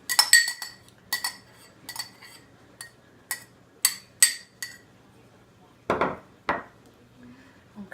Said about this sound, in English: just going to put carrots in